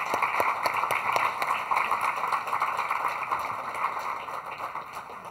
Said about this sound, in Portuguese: recebessem com uma grande salva de palmas o Manuel Pires